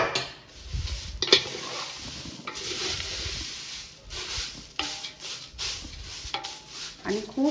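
Poha, dal and peanuts are stirred gently in a pan over low heat, producing soft scraping and rustling with intermittent clinks of a spoon against metal, close and uneven in rhythm.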